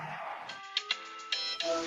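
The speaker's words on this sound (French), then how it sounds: "Ah non, c'est à qui le téléphone?" A mobile phone ringtone plays during an NFL broadcast segment, a bright electronic tune with short repeated pulses, moderately loud and steady over a faint background.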